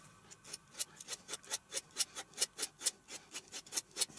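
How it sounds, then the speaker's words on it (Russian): A metal file rasps in steady back-and-forth strokes against a small wooden blade being shaped for a homemade perch wobbler lure, about fifteen crisp close strokes in an even rhythm with no talking. "И предварительно обтачиваем напильником все."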